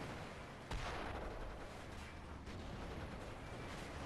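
Mortar and RPG fire in the Company of Heroes modern combat mod, a steady roar of battle with a sharp blast near the start and a dense rumble of distant explosions and gunfire throughout.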